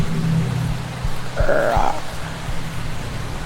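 Steady rain hisses throughout a house in a horror video game, a constant broadband wash with a few low thuds and a brief muffled grunt-like tone midway, no talking.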